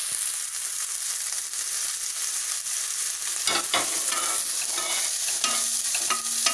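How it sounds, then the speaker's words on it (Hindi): Cabbage, beans, capsicum and carrot stir-frying in a pan for a Chinese-style chicken Manchow soup, a steady close sizzle with a few scraping stirs and clinks toward the end, no talk. "इसको हम हल्का सा फ्राई करेंगे, फिर ये जो कच्चापन है ये दूर हो जाएगा।"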